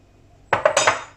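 Dishes and cutlery clatter while a dishwasher is being unloaded. After a quiet half second comes a quick run of four or five sharp, close clinks and knocks that fade away. No one speaks.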